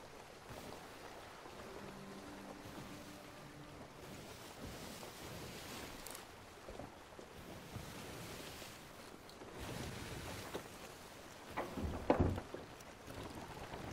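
Choppy sea waves splash against a ship's hull in a steady wash of water and wind noise, growing rougher with a sharper slap near the end.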